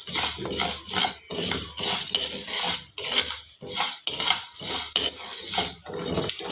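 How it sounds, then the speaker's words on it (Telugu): Sago pearls dry-roast over low flame in a kadai, heard as a busy, close rattle of a spoon scraping and clinking against the metal pan, with repeated stirring strokes and no talking. "కడాయి పెట్టుకొని సగ్గు బియ్యం వేయించుకోవాలండి. ఇలా లో ఫ్లేమ్లో పెట్టేసి వేయించుకోవాలి."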